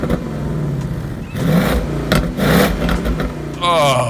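A Ford Mustang Bullitt engine revs hard with a throaty, rumbling exhaust tuned to sound like the 1968 original, rising and falling in a few surges, with a voice briefly heard near the end.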